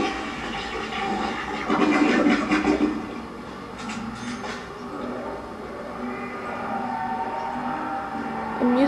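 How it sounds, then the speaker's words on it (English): A toilet in the Call of Duty Nazi Zombies map Verruckt flushes with a rushing, gurgling swirl of water, loud at first, then settling into a steady drain over game ambience, with no talk. "Then you flush it three times and by pressing X."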